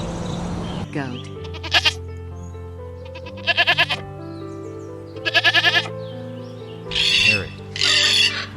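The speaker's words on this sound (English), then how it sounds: "Goat." A goat bleats in several short, quavering cries spaced a second or two apart, loud and close over a steady background tone, with two longer calls at the end.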